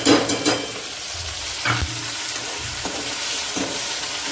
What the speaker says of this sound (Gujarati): ચાલો આપણે ધીમે ગેસે કાંદાને તળવા દઈશું